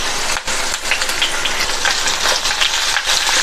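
Curry leaves hit hot oil in a pan for rava upma, giving a steady, dense sizzle and crackle that holds throughout with no talking.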